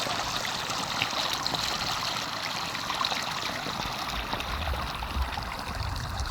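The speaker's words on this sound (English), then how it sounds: "It's another broken part of the pipe, the water pipe that runs through this ghost town." Water runs from a broken water pipe in the Humboldt City ghost town, a continuous trickling, splashing flow heard close and steady throughout, with no talk.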